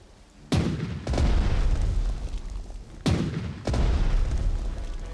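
Tank main gun firing in the WWII strategy game Strategic Mind Blitzkrieg: two heavy booming blasts about two and a half seconds apart, each followed by a rolling rumble, loud and with no speech.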